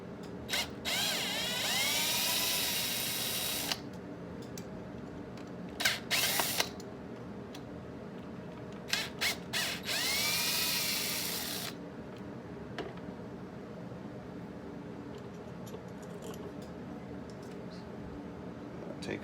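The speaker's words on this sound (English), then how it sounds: "you can start loosening up these other screws" A power driver loosens screws on an Arrma Kraton RC car, with several whirring bursts of varying length, close up, separated by quieter clicks and handling noises and no voices.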